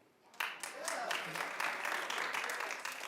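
Studio audience applause on a daytime talk show swells in after a brief quiet start and holds as steady, broad clapping from a crowd, with cheers or a voice mixed in.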